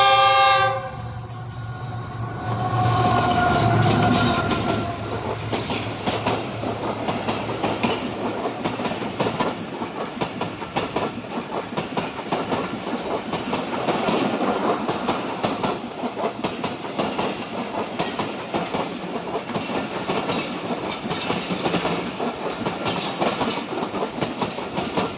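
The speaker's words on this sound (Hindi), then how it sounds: "अच्छी स्पीड के साथ पास हुई है समनाबाद से" A Pakistan Railways passenger train hauled by a GU diesel locomotive passes Samanabad station at speed, with a loud horn blast early on, then a steady roar and rhythmic clatter of wheels over rail joints throughout, close by.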